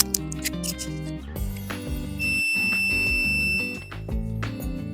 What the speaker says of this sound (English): So that beep is what you want to hear. That lets you know that you have continuity.